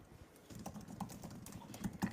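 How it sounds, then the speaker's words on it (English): Quick, steady clatter of keys on a computer keyboard, close and fairly soft, with no talking over it. "we can't both be typing at the same time"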